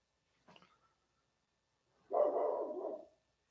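Outside a home garage, a dog lets out a short yelp followed by a longer, sustained bark or howl, heard fairly clearly at a moderate distance with silence around it.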